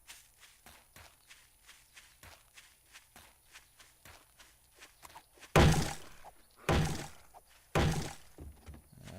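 A steady run of soft footsteps in 7 Days to Die draws closer, regular thuds building into three loud heavy impacts near the end.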